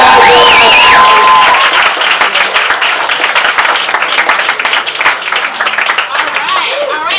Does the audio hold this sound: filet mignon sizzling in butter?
no